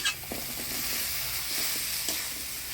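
Boiled jackfruit seeds sautéed in a spice paste of garlic and masala with a little water, giving a steady soft sizzle with scraping stirs throughout, fairly faint and close, with no talking.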